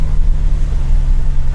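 A BMW E34 M5 running a standalone ECU sends a loud, heavy engine roar with a deep rumble through the whole brief stretch, close and steady with no voices.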